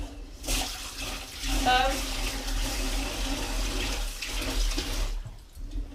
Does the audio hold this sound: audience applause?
no